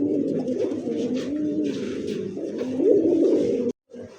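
Two pigeons, a racing pigeon and a fancy breed, coo repeatedly at close range in low, rolling, throaty phrases that run almost continuously before cutting off abruptly near the end.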